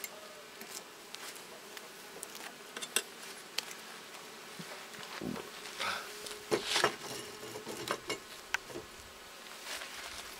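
Honeybees from a small, weak colony buzz around an open homestead beehive, a steady hum with scattered close passes and brief louder flurries, no talk.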